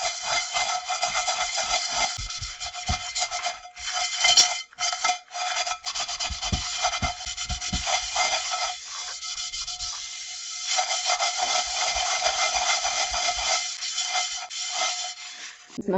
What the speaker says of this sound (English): I'm just gonna use this to go over it with a little sand to smoothen everything out